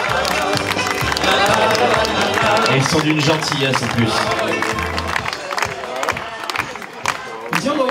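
Wedding guests at a reception at Fortin de Corbières applaud and cheer the servers, a dense, steady wash of clapping and crowd noise with someone speaking over it.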